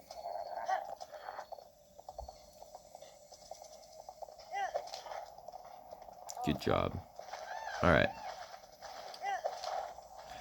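Hooves clip-clop in a quick rhythm as a horse gallops in Breath of the Wild, with game music and effects around it and someone talking over it.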